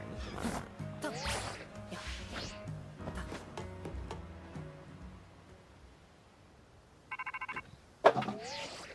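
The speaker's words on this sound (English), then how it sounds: "I just dropped my phone" A phone is dropped, giving one sharp knock near the end that stands out above the quieter electronic game music and effects playing in the background.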